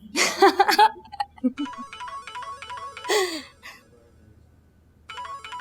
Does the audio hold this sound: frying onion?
no